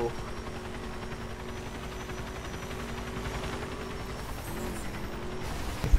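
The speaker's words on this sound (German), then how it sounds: "Wow, Helikopter!" A helicopter in the driving game The Crew gives off a steady, droning rotor hum beneath the car's engine noise, holding level for several seconds before shifting near the end.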